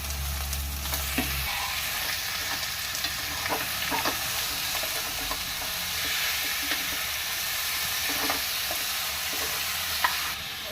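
Mutton with turmeric frying and being stirred in a pan: a steady, close sizzle with scattered scraping clicks of the stirring utensil, with no talk.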